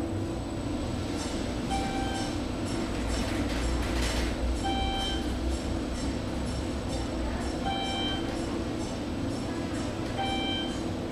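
A Schindler 400A traction elevator with 3,500-pound capacity at the Westin Ka'anapali Ocean Resort Villas North runs in a steady, loud cabin rumble, broken by recurring high electronic beeps as it travels non-stop.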